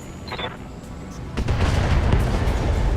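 A missile strikes and destroys a turret in the Battletech video game, a soft thud followed by a loud, sustained rumbling blast that rolls on to the end.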